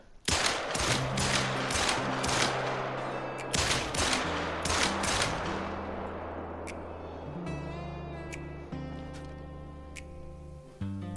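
A rapid volley of gunshots cracks out at the shooting range in theHunter: Call of the Wild, several sharp loud reports in quick succession followed by quieter ringing tones and a final single shot.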